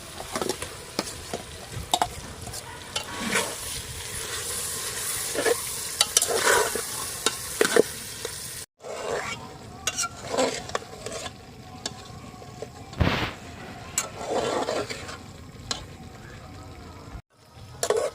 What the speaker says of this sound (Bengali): পেঁয়াজ টমেটো খুব ভালো করে কষিয়ে নিয়েছি মাংস দিয়ে দেবো ম্যারিনেট মাংস দিয়ে দিচ্ছি